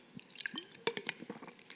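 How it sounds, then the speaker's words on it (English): Someone sipping water close to the microphone: short wet slurps and small drips with a few soft swallow-like squishes, quiet and alone with no talk. "Let me take a sip of water."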